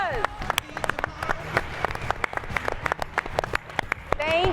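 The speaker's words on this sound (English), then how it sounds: "give yourselves a round of applause" A conference audience applauds at the close of a talk on equal pay, with dense rapid clapping that carries steadily throughout. Voices and cheers mix in with the clapping.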